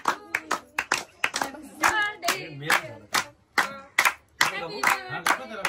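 Several people clap their hands in a quick, uneven burst after a Happy Birthday song, with voices talking and calling out over the claps.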